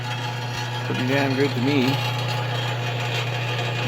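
A Wissota 10-inch bench grinder runs steadily with no wheels fitted, a constant low electric motor hum with a faint whine, as someone speaks briefly over it.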